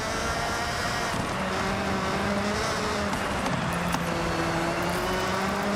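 Car engines race in the Forza Horizon video game, with a continuous loud engine drone and rising and falling tones as cars accelerate and shift, filling the whole stretch without talk.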